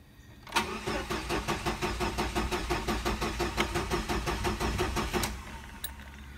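A 1999 Pontiac Sunfire's engine cranks in a fast, even chug of about twenty starter strokes for nearly five seconds, close and loud, then stops.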